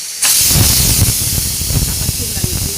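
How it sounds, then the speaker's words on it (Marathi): A pressure cooker whistle blows loud and close while cooking vegetables for butter pav bhaji, bursting into a sustained, forceful steam hiss that holds for the whole stretch with faint kitchen clatter beneath. "हे बघा शिट्टी पण होते कुकरची."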